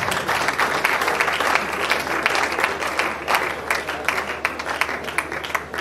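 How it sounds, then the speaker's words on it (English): Audience at a Nigerian Society of Engineers graduate membership induction gives a steady round of applause for an introduced lecturer, dense clapping of moderate loudness lasting throughout. "Let's give him a round of applause, please"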